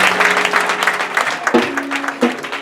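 A church congregation applauds during a French-language service, a bright burst of clapping with a few louder swells and voices rising among the claps.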